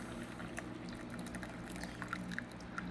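Water at a full boil, 212 °F, is poured over Night & Day black and white tea blend leaves, giving a faint, steady liquid trickle and soft patter under a low background hum, with no talking.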